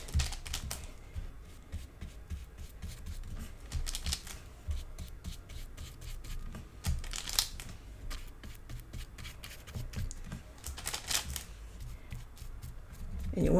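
Paper pages of a Stamperia Lady Vagabond Lifestyle mini album being folded and handled, giving repeated crisp rustles and soft crinkly bursts close by, with quieter paper shuffling in between.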